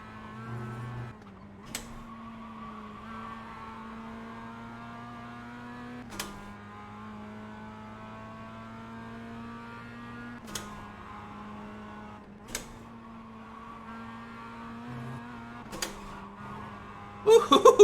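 A Mazda MX-5 race car in iRacing laps the Nürburgring Nordschleife, its engine buzzing in a steady drone that climbs in pitch through each gear and drops sharply at every quick upshift, repeated several times.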